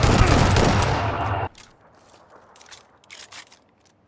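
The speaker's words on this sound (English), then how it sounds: "That was a shotgun, that was the power of the shotgun." Shotgun fire in a multiplayer shooter game, a loud sustained burst of gunfire that cuts off abruptly, followed by faint scuffing and movement sounds.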